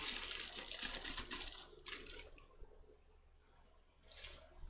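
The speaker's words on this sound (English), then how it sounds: "We're then going to take just a piece of newspaper, crumple it up." A piece of newspaper is crumpled up by hand, giving dense crackling rustles in a couple of close bursts separated by brief quieter moments.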